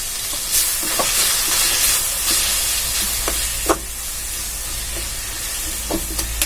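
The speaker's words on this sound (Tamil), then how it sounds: "நல்லா அதை சுருள வதக்கி விட்டுட்டு" Drumstick flowers and egg bhurji sautéing in a pan, a steady frying sizzle with intermittent stirring clicks and scrapes throughout.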